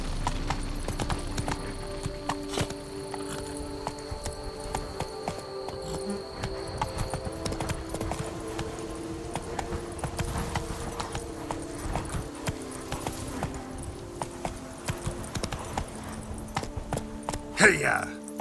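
Geralt's horse Roach gallops in The Witcher 3: Blood and Wine, steady rhythmic hoofbeats running throughout with crickets and ambient game sound, and a louder burst near the end.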